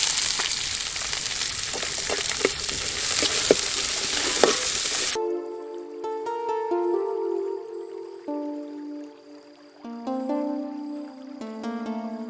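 Onions frying in a pan for a Kuttanadan duck curry in Kainakery: a dense close sizzle for the first five seconds, then the frying cuts out and music takes over.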